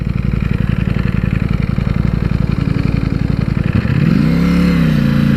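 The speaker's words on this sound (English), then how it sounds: "This beautiful four-cylinder engine is lovely and smooth." A Ducati Panigale V4 S four-cylinder sport bike engine runs at low riding speed with a fast, even pulse, then rises into a smoother rising rev near the end, close and loud with no talk.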